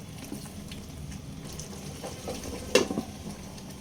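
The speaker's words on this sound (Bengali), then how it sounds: "সমস্ত মশলার সঙ্গে চিকেনটাকে অল্প অল্প জল দিয়ে খুব সুন্দরভাবে কষিয়ে নিয়েছি" Chicken pieces sautéing with ground spices and a splash of water over medium flame, a quiet bubbling sizzle with occasional stirring knocks and one louder clatter near the end, no voices.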